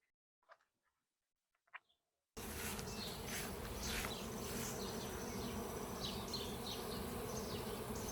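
Dense, steady buzzing of a swarm of honey bees at an open hive during a honey harvest with robbing under way, continuous and loud after a couple of faint isolated bee passes at the start.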